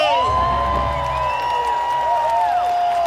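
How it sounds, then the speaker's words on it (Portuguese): A large crowd at a political rally in Brazil cheers and applauds loudly, with whistles and whoops rising over steady clapping. "queria começar rapidamente com uma salva de palmas ao deputado"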